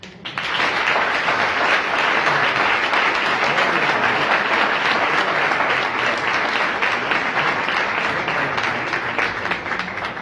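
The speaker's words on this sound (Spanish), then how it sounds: "Más que nunca te mereces este pedazo de aplauso" Sustained applause from an audience at a 25th-anniversary celebration talk, a dense, steady wash of many hands clapping for about ten seconds, loud and close, fading slightly at the end.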